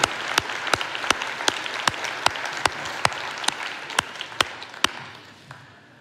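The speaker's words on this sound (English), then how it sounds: "let's give you a big round of applause" A crowd at a Main Street Summit keynote, given by Governor Burgum, applauds local officials with a full, steady round of clapping. Sharp, evenly spaced clicks ring through it until the applause thins out near the end.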